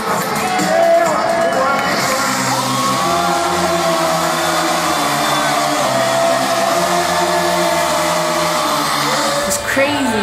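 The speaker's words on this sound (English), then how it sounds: "You would hear the crowd come over the speakers because of how loud they were singing." Loud crowd at a concert in Miami, singing along and cheering in a sustained roar with music under it, then a sudden shift near the end.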